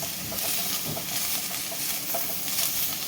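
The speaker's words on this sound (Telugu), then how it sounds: "మూకుల్లో నూనె వేడి చేసి అందులో ఈ కమలాపండు తొక్క వేయాలి." Cut orange peel frying in hot oil in a pan for orange peel chutney, giving a moderate, steady hissing sizzle with light stirring throughout.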